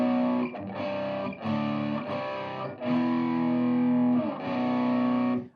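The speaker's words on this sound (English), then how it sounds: "Let me kick on a little distortion." Distorted electric guitar playing a growly four-string power chord built on the fifth string with a low fifth added, struck in several sustained strums with brief breaks, loud and alone.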